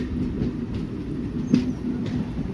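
Passenger train pulling away from platform 1 on the Bengaluru to Mysuru line, a steady rolling rumble with rhythmic wheel clacks and a brief tonal squeal, heard from on board without voices.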